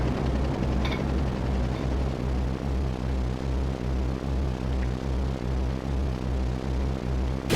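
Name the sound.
helicopter flying in the video game Final Fantasy 7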